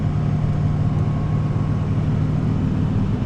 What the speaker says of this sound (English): The car is loud